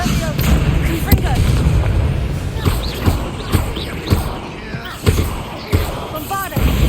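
Bombarda explosion spells going off in a Hogwarts Legacy battle, repeated booming blasts and thuds at irregular intervals over a busy layer of combat noise, loud and close, with speech-like game sounds mixed in.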